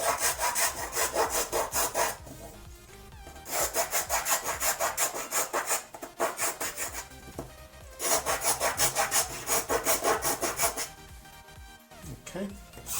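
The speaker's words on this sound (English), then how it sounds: "All I'm doing is basically deburring the edges." A hand tool lightly deburrs the edges of drilled holes in a clock build, giving loud close rhythmic rasping scrapes in bursts of back-and-forth strokes separated by short pauses.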